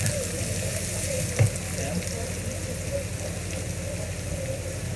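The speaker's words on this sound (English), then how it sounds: "Okay, we saute the garlic." Garlic sautéing in a pan where ginger has already browned, for Chinese-style black pepper beef: a dense, continuous sizzle with a low background hum and one small knock partway through.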